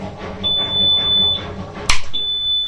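A Miele washing machine showing an F020 error sounds a high, thin alarm tone in two long steady beeps split by a sharp click, fairly close, over a low background hum.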